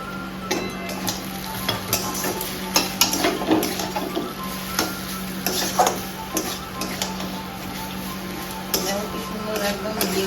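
Roasted spices being stirred into a frying vegetable chop mixture in a pan, with steady sizzling and repeated scraping stir strokes close by, no talking.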